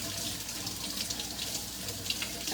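Tap water runs steadily into a sink while a tomato is rinsed under it, a close continuous splashing gush with slight shifts as the stream hits the fruit.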